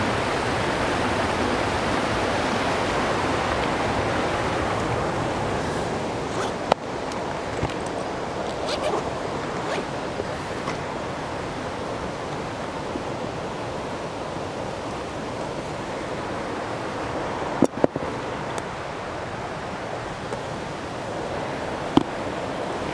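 A creek on Vancouver Island rushes steadily, a loud, unbroken roar of water with a few faint clicks and knocks.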